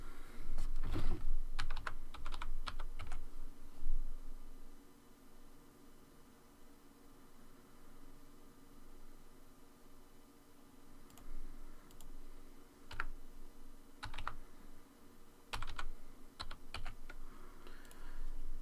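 A password is typed on a computer keyboard during Raspberry Pi server setup, with bursts of quick clicking keystrokes separated by quiet pauses and a low background hum.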